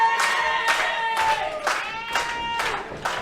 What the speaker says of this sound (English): Timmy Lee just clapping right along.